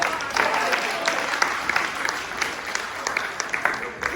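Audience applause after a short performance piece about mental health, a sustained patter of many hands clapping at moderate volume with scattered sharper claps and some voices beneath.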